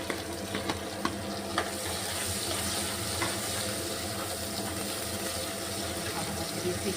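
An onion and garlic tadka fries in a pan with a continuous close sizzle and occasional clicks and stirring knocks, along with some running-water sounds and no clear talking.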